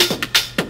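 A gated top drum loop from a house sample pack: choppy, skippy bursts of hi-hat and percussion hits that cut off abruptly, in a quick repeating groove with nothing else playing.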